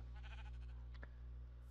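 A single short sheep bleat from Minecraft, fairly faint over a steady low hum, heard alone without talk.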